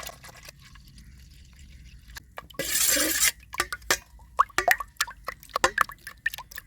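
Eggs and milk are stirred together in a bowl for a Sri Lankan vattalappam batter, with a brief splashy pour followed by quick, close clinks and taps of utensil against the bowl, no talking.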